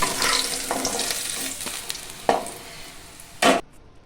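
Pointed gourd pieces frying for shukto in hot oil already used to fry bitter gourd, a steady close sizzle with a couple of sharp spatters or stirring clatters near the end, no talking.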